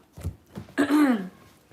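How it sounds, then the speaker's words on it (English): A person blows their nose once in a short forceful burst, close to the microphone, preceded by a brief sniff and quiet breathing, with no talk. "I gotta blow my nose."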